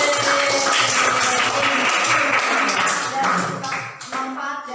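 A classroom of pupils claps hands together in an Indonesian lesson, a dense, steady burst of many hands heard close up. The clapping continues throughout and fades briefly near the end, with some voices mixed in.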